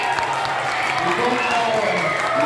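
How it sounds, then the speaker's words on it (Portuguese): Audience applause and cheering at a Black Consciousness remembrance event, a steady dense wash of clapping with crowd noise and voices mixed in throughout. "uma salva de palmas para eles, pessoal"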